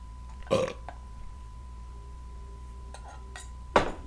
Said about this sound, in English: Water burp.